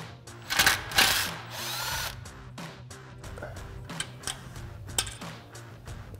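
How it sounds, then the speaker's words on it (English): A cordless impact wrench with a 10 mm socket backs a bolt out during a Jeep Wrangler JK suspension lift install, giving one loud rattling burst of hammering followed by several short, sharp clicks and taps of the tool and parts. "We'll grab our 10 mil socket on our impact and take that bolt out."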